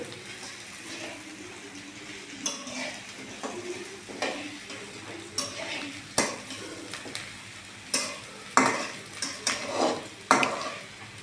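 Pasta stirred as it cooks in a pan, with a series of scraping and clinking utensil strokes that grow louder and more frequent over a low, soft sizzle, heard close up with no talking.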